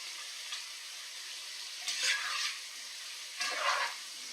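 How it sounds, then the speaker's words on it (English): Fried egg with sweet potato, tomato sauce and vegetables is stir-fried in a pan, a steady sizzle broken by a few louder scraping bursts of stirring, close and moderately quiet. "Then we add the fried egg back with a good mix."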